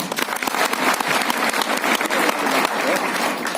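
A seminar crowd in Jamui, India, claps loudly and continuously at an RCM event. The dense, close applause keeps an even intensity throughout.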